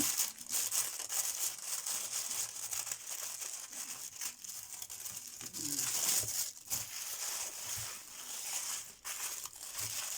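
Parcel packaging crinkles, tears and rustles steadily while being cut open with scissors, close and fairly loud, with sharp crackles and scrapes throughout and no talking.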